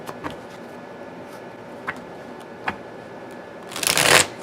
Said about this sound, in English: I needed to shuffle these